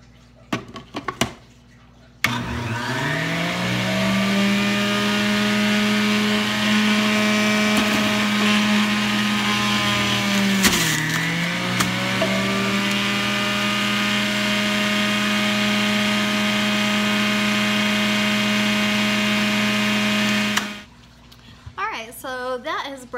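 A juicer grinding ginger for a green juice, a loud sustained motor whine that starts abruptly, dips briefly midway under the load, then runs on and cuts off, with a voice briefly before and after.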